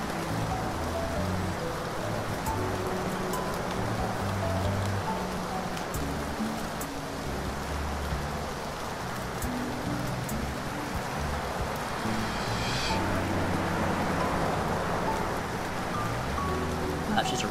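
Steady rain falls in Shashingo, an even, continuous hiss of drops on surfaces lasting throughout at moderate volume over faint low background music.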